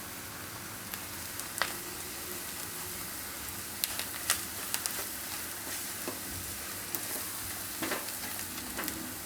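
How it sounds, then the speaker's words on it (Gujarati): Dried fenugreek leaves go into a frying pan of dahi paneer, with a steady close sizzle and occasional sharp taps and scrapes of a spoon stirring against the pan. "હવે આપણે આમાં કસૂરી મેથી નાખી દઈએ."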